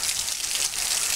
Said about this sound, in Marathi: वडाळी परिसराला अवकाळी पावसाने झोडपले